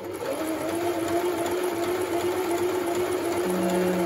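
Medion 10964 sewing machine running a triple straight stitch, a steady close whirring hum with a faint rhythmic needle clatter, continuous throughout.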